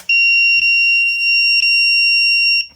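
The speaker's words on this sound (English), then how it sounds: "you can confirm that this piece over here is actually the buzzer" A loud, piercing electronic buzzer tone from a DeerRun walking pad's circuit board sounds continuously at close range, with a few brief clicks or stutters in the steady beep.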